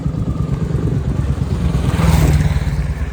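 Two motorcycles ride past on a bridge near Bargari in Punjab, their engines a loud, continuous rumble that swells slightly toward the end as they draw closest.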